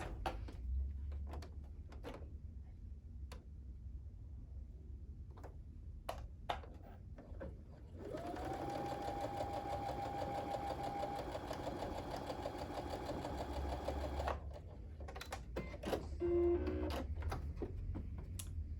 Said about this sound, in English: I'm gonna sew 1/4 inch on both sides.